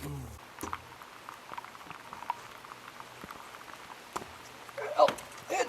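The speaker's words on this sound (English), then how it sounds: "Oh, it's raining." Rain patters steadily on an outdoor roofing job where tongue-and-groove boards are being installed on an A-frame, with scattered knocks of boards being fitted and someone talking briefly near the end.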